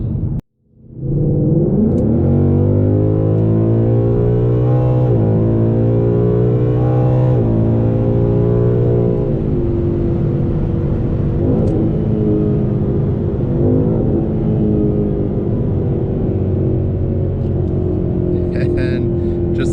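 A Lund-tuned 2019 Mustang GT PP1 engine revs hard under full acceleration, its rising pitch stepping up through several gear shifts before settling into a steady loud drone, heard from inside the car.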